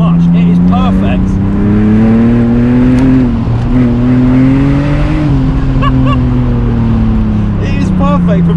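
A BMW Z4 sports car of 230 brake horsepower and 1.5 tons drives on British roads, its engine droning steadily and rising and falling in pitch as it accelerates, loud and close, while someone talks over it.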